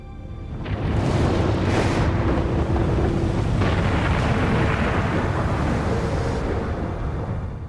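A deep, roaring volcanic eruption explosion rumbles and sustains, loud and broad, a massive blast rolling on for several seconds.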